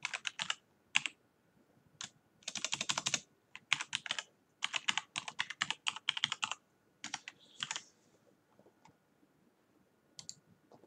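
Typing on a computer keyboard with a Turkish layout during a Windows Server 2022 setup: bursts of quick, close key clicks with short pauses, no talk.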